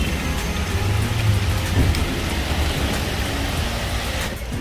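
Heavy rain pours steadily and loudly throughout in Nainital, a dense continuous roar of drops with no voices.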